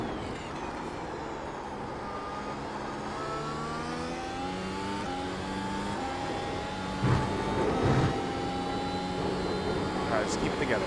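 Mercedes W12 Formula car engine in the iRacing game at the Hungaroring, a high-pitched engine whine rising and falling through gear changes and braking, with a driver talking over it.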